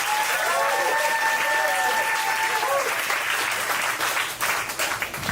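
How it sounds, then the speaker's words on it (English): A comedy showdown crowd applauds a stand-up contestant as he takes the stage, dense clapping and cheering throughout with a whistle-like tone early on, tapering slightly toward the end. "Start clapping right now for Jerry David Garza."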